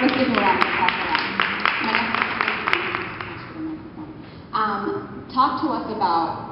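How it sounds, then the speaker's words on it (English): Audience claps for a panelist at a Black fashion week panel, a rhythmic patter of hands mixed under a speaking voice before the clapping dies away and talk continues alone. "So, Nemea, let's give her a round of applause for that"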